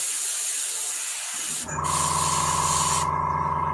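Color is spray-applied onto leather straps: a steady, close hiss bursts on after a quiet start and runs on evenly, with one brief break in the spray.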